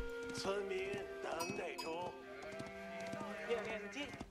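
Sheep bleating in Age of Empires 4, several wavering bleats in quick succession over faint game ambience, with a person talking over them.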